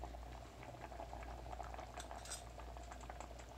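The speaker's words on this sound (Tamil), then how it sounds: "நல்லா ஒரு தடவை கிளறி விட்டுக்கோங்க" A pot of chickpea kuzhambu curry bubbles steadily while a utensil stirs and scrapes against the pot with soft intermittent clinks, close and continuous, with no talking.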